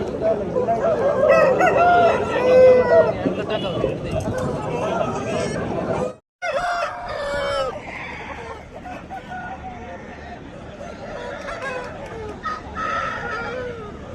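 Roosters crow loudly and repeatedly at the Kundarapalli hen market in Krishnagiri, Tamil Nadu, with clucking and the busy chatter of people in the background.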